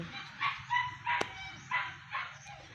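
A dog confined indoors barks repeatedly at a distance, several sharp yaps in an uneven rhythm, with a brief click in the middle.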